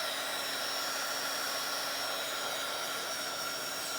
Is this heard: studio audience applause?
no